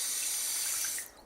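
Tap water runs steadily in a bright, hissing stream during wudu washing, then cuts off abruptly near the end, leaving quiet room tone.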